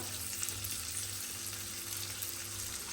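Vegetables, including zucchini, carrots and red and green peppers, frying in hot oil for a Chinese-style noodle dish, giving a steady loud close sizzle with soft crackles and no one speaking.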